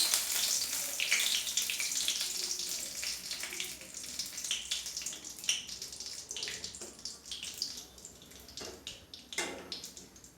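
Bay leaves sizzle in hot oil left from frying fish, a steady crackling hiss at close range that slowly fades, with a few sharper pops near the end.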